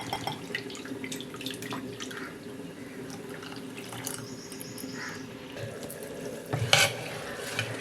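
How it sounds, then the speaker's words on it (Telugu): Quiet wet squelching and stirring as water is worked into flour by hand, with a soft splash of pouring near the end. "ఇవి పోసేసి ఈ పిండిలో కలిపేసుకుందాం"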